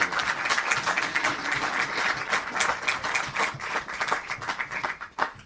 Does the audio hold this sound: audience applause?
yes